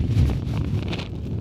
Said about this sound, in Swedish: Blåser som fan.